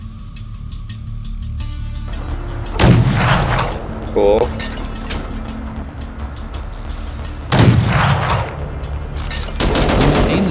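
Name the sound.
tank cannon firing in the video game Fallout: The Frontier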